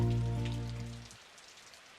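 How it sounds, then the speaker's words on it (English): Rain patters steadily on surfaces outdoors near grazing deer. A low sustained musical tone fades out in the first second, leaving a soft, even hiss of falling drops. "Before I can even get a good focus on the deer, it begins to start pouring, sending them running for shelter"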